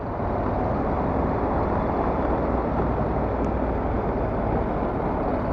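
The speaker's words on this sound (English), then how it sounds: "Lots and lots of traffic." Heavy traffic on a Manhattan street in New York City, heard from a motorcycle in the flow, rumbles as a loud, dense, unbroken roar of engines and road noise with a brief faint high tone partway through.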